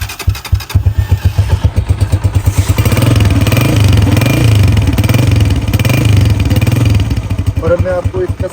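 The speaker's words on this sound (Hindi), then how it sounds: "इसको पुश स्टार्ट में इसका साउंड टेस्ट करवाएं।" Honda CG125 Gold Edition motorcycle push-started from close by, sputtering in quick rhythmic pulses before catching into a loud, steady single-cylinder run that eases off near the end.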